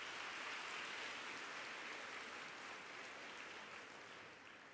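An audience at a science week launch applauds an honoured guest, a soft, continuous wash of clapping heard from a distance that stays even and slowly fades toward the end.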